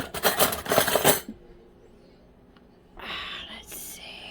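A metal fork is picked up and clinks against dishes in a kitchen where a chuck roast is cooked in an Instant Pot, with a bright burst of clatter, a quiet pause, then more clinking.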